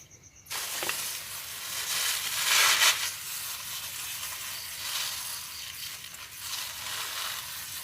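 A tamarind bonsai grown from seed gets sprayed with water, a steady hissing spray that starts abruptly and runs continuously near the listener, swelling briefly before settling into an even wash.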